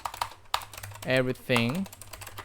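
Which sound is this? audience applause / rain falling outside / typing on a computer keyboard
typing on a computer keyboard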